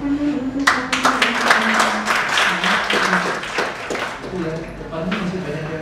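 Audience clapping at a lecturers' accreditation seminar, a burst of scattered claps that swells and tapers, heard alongside ongoing voices.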